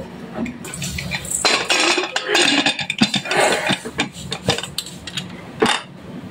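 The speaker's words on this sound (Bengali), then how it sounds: "এখন আমি প্রেসার কুকারের ঢাকনা বন্ধ করে দিব" A pressure cooker lid being closed after cooking goat head meat: metallic clanks, scrapes and clinks of the lid against the pot, close and fairly loud, in an uneven burst of handling noise.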